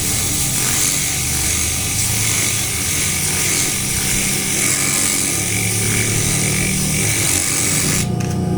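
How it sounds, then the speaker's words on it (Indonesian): Steady, loud abrasive grinding of sandpaper against a spinning water pump shaft over the motor's continuous whir, sustained without a break and ending with a short change near the end. "Kita amplas bagian asnya sampai bersih"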